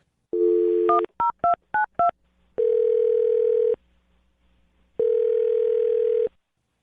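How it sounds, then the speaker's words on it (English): Telephone dialing tones: a short tone, then a quick run of five rapid beeps of shifting pitch, followed by two long, steady ringback tones separated by a pause, loud and clean with no voices. "I'm going to dial her phone number right now."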